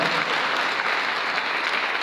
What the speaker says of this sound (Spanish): Puede aplaudir fuerte al Señor.